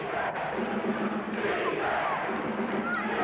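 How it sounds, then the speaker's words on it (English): Basketball arena crowd at a 1986 Wichita State versus Tulsa college game, a dense, steady roar of shouting voices sustained throughout, loud and continuous without clear rhythmic chanting. "Crowd shouting for defense right now."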